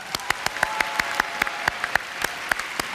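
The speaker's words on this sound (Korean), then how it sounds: "김민수, 정주희, 문현희 청소년 힙합 팀에게 다시 한번 큰 박수 부탁드립니다." A church audience at an Easter music service applauds a youth hip hop team, with sharp, separate claps coming at a fairly even pace over steady background noise.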